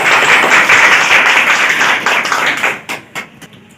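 An audience at a community celebration gives a burst of loud, close applause that holds steady and then breaks into a few scattered last claps.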